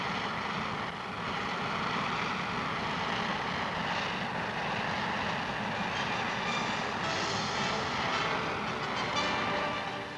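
A military transport aircraft of the Military Air Transport Service takes off with a loud, continuous engine roar that stays steady and full throughout, with no voices over it.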